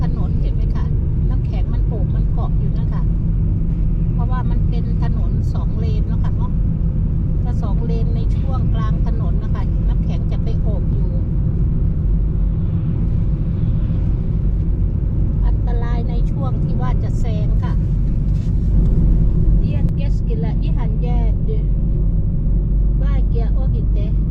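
Cars drive along a snowy winter road in Finland, a steady close engine and tire rumble running throughout with talk over it.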